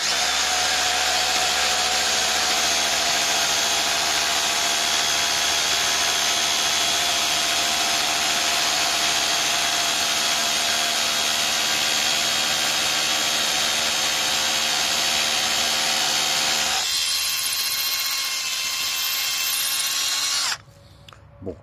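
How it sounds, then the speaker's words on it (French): Small Bosch 18-volt cordless drill with a 5 Ah battery boring into a wall: a loud, steady motor whine that runs for about twenty seconds, shifts pitch near the end, then stops abruptly. "la perceuse, j'ai repris ma petite 18 volts"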